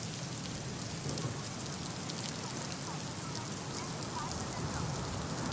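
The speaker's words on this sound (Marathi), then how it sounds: "मात्र आता सरींवर सरी कोसळत आहे।" Heavy monsoon rain pours down steadily beside a flooding river, a dense, unbroken hiss with no pauses or changes throughout.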